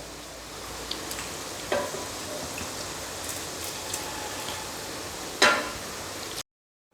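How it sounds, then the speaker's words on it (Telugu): Water boiling in a pot with basmati rice added, a steady bubbling hiss with a couple of sharp pops, ending abruptly. "నీళ్ళు మరుగుతున్నాయి కదా"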